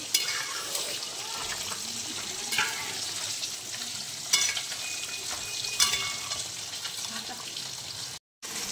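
Rice pulao with ghee stirred in a pan, a steady close sizzle and frying hiss with periodic scraping strokes of a spoon, a faint voice briefly in the background and a short drop-out near the end.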